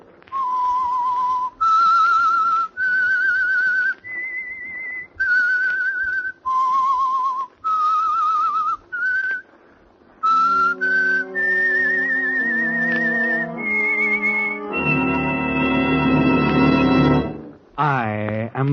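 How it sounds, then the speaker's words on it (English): The theme whistle of The Whistler, a radio mystery show sponsored by Signal Oil: a lone, clear whistled melody of sustained rising and falling notes, later joined by orchestral music swelling to a loud close. "That whistle is your signal for the Signal Oil program"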